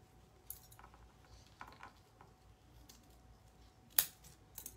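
Ends of a Chalk Couture stencil for a vintage Christmas truck design being trimmed: a few faint, sparse snips in a quiet room, with one sharper cut near the end.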